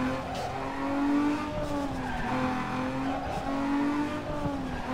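Tires squeal in a steady, sustained drift from a street-racing car in Need for Speed Underground 2, with the engine droning underneath. The squeal stays loud and close for the whole stretch.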